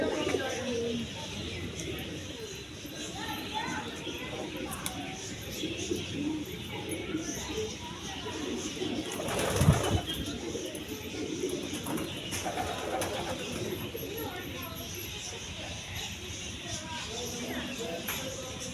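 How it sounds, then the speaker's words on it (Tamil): Fancy pigeons at the Rajali bird park in Thanjavur, soft low cooing and bird calls rising and falling in the background, with people talking intermittently nearby and one brief louder bump. "இந்த பக்கம் வந்து ஃபேன்சி பீஜியன்ஸ், ஆடம்பர புறாக்கள் வச்சுருக்காங்க."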